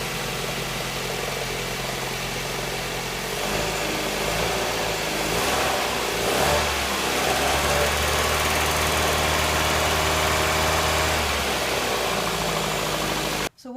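Toyota RAV4 engine running steadily, then the throttle is kicked and the revs rise and swell for several seconds before settling back to idle, loud and close throughout with no talking.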